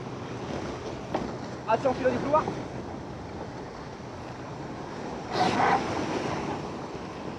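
Wind and rushing sea water around a 69F racing sailboat under way at Limone, a faint, steady windy wash with a brief louder gust or splash near the end, as crew voices talk over it.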